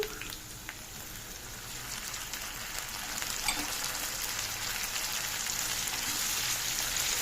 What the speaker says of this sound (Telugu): కొత్తిమీర వేగుతున్నాయండి